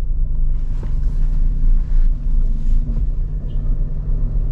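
A manual car pulling away gently in first gear as the clutch is slowly released, a steady low engine rumble that swells slightly, heard from inside the cabin with no talk.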